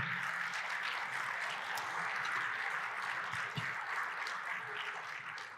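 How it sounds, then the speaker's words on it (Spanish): A church congregation applauding for Jesus, steady sustained clapping from a large group filling the space with little talk. "¿Van a aplaudir otra vez al Señor Jesús? Un aplauso."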